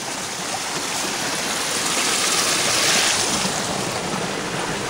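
Waterfall on rural acreage in Elbert County, Georgia, a loud, steady, broad rush of falling water filling the whole stretch with no voices.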